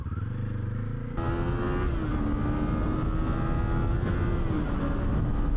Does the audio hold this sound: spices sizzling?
no